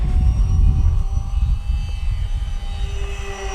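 An FMS Super EZ radio-controlled airplane flies in to land, its motor a steady, fairly close droning whine with rumbling wind underneath and no talking.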